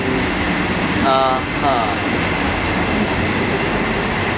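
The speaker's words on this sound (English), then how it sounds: "You're on a train in Italy" Interior of a moving Italian train, an empty carriage with a steady loud rumble and rolling wheel noise throughout, while a voice briefly murmurs over it.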